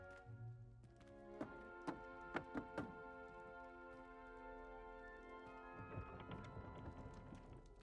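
Rhythmic taps on a wooden barrel in Hogwarts Legacy, four or five distinct knocks in a steady pattern over a soft ambient musical bed, followed by a swelling chime as the barrel responds.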